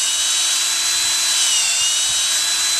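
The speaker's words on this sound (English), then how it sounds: "we're going to drill it at about a 45-degree angle going upward" A power drill bores into a maple tree trunk at an upward angle, giving a steady, close, high-pitched whine with a continuous grinding hiss throughout.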